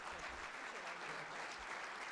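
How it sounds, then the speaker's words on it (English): Audience applause for Congressman Bacon at the Nebraska Data & AI Summit, a steady wash of clapping across the hall that holds at an even level throughout, with no voices over it. "please give a nice round of applause again to Congressman Bacon"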